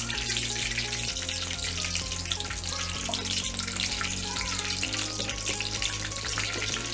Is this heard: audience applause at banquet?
no